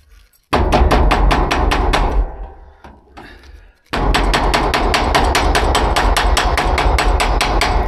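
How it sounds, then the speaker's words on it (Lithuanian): Rapid, steady plastic-hammer taps ring out loud and close in two long runs, broken by a short stretch of quieter scraping and handling noise, while fitting trim on a Velux roof window installation. "Būtent su plasmasiniu plaktukiuku pamušė."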